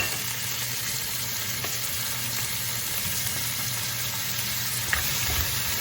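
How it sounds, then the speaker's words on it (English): Crab noodle soup ingredients are stirred in a pan, giving a steady, close sizzle and frying hiss with soft scraping movement throughout and no voices. "Just going to stir it up a little bit."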